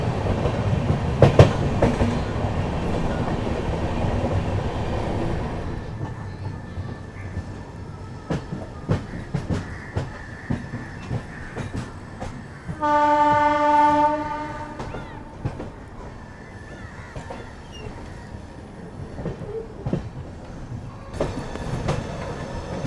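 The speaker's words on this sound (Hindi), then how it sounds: "ट्रेन अपनी भुवनेश्वर पहुंच रही है" The Purushottam Express rolling into Bhubaneswar station, with loud rumbling wheels and a clear, sustained horn blast partway through, heard from on board.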